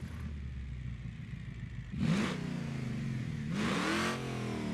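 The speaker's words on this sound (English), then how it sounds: "So this is a diesel V8." Diesel V8 in a BeamNG career-mode build: an idle clatter broken by two loud revs, each rising sharply and falling back, close and clear with no talk.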